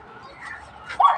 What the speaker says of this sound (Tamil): அங்கே பாருங்க நாய் ஃப்ரெண்ட்ஸ் தெரியுதா?